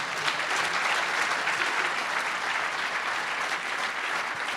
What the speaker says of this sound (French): on peut encore une fois applaudir